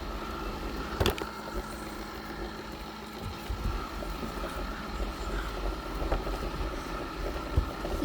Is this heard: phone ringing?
no